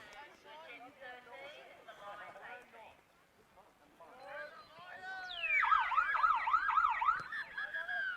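A half-time siren sounds at a Group 6 CRL first-grade rugby league match at Crane Oval. Its rising, wailing tones start faintly, then grow loud and sustained over a commentator's continuous talk.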